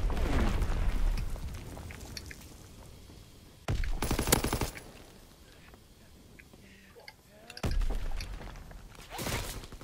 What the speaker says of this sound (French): Obus de mortier lancé.